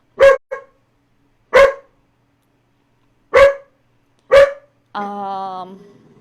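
A territorial dog barks four loud, sharp barks spaced a second or two apart, then gives a drawn-out high whine; nothing else is audible between the barks.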